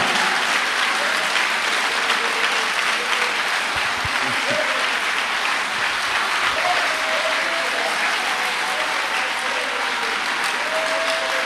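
A church congregation applauds to acclaim the Lord, sustained dense clapping from a large crowd throughout, loud and continuous, with faint voices mixed in.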